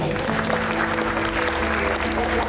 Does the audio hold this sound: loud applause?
yes